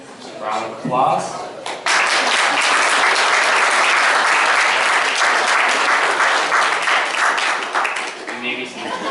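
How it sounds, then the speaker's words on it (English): Loud, dense round of applause from the audience at a Scout Court of Honor, starting after a brief spoken name and swelling for several seconds before tapering, with a voice returning near the end. "Round of applause"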